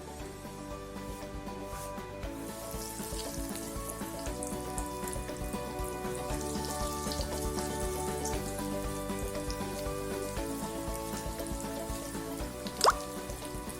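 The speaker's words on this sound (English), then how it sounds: "We have to fry it till it will be golden brown" Cheesy bread rolls fry in a pan over a medium flame, giving a steady, fairly quiet sizzle with faint crackles and one brief sharp pop near the end.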